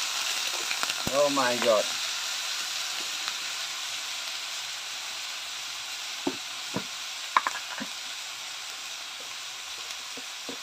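Frog meat sizzling in a hot pan, a loud continuous hiss with occasional stirring clicks and pops, with a brief exclamation from a man near the start.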